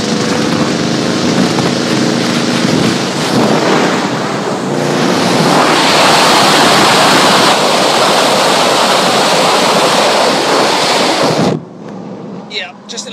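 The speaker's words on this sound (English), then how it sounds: "There might be a bit of wind, but you'll hear the exhaust." A 2008 Ford Interceptor's exhaust roars loudly and steadily through an open window, heavily mixed with wind buffeting, before cutting off abruptly near the end.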